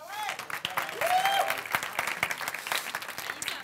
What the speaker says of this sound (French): on va voir notre musicien ici présent, qu'on peut applaudir bien fort